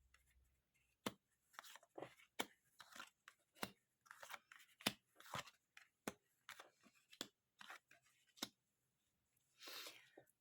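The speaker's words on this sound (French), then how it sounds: "J'installe les cartes." Tarot cards dealt out one by one onto a table, a run of crisp, close slaps and light papery snaps at an uneven rhythm, ending in a brief shuffling rustle, with no talk.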